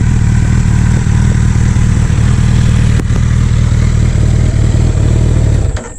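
Suzuki Hayabusa GSX1300R sportbike, recovering from a wreck, roaring loud and close with a steady, heavy engine drone that holds for several seconds before cutting away near the end.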